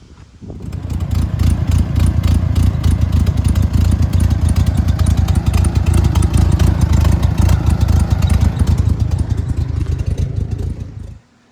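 An air-cooled VW Beetle engine pulled from a junkyard starts up and idles roughly for about ten seconds with a loud, close, steady rhythmic putter and mechanical clatter, then cuts off, with no voices over it.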